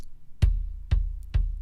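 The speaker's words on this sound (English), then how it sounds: "So that's the sound of the kick drum, right?" Three deep, punchy kick drum hits from a contemporary jazz track, spaced about half a second apart, each with a sharp attack and booming low tail, alone.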